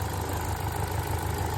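A repaired Chevrolet Cruze engine, previously misfiring, idles with a steady low hum and even rhythm, heard close up with no speech.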